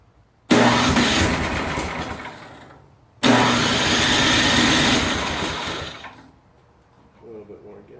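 A Craftsman 11.0/31 snowblower engine is started twice in a row: each time it catches with a loud, close roar, runs a few seconds, and dies down again, with brief talk afterward.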